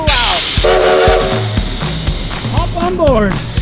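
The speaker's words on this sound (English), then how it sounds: "Steam trains are the best." A steam locomotive on the East Kootenay Railway near Cranbrook, British Columbia, sounds its whistle in rising, sliding blasts over heavy rumbling chuffs and clanks, loud and close throughout.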